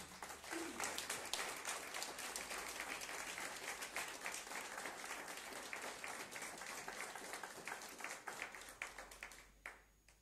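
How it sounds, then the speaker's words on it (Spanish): A church congregation breaks into sustained applause, a dense wash of many hands clapping at steady volume that fades away at the very end. "dale ese aplauso al Rey."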